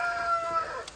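Hens on a small Brazilian farm smallholding give soft, close clucks and brief calls while eggs are gathered, a short steady run of fowl sounds with no talk.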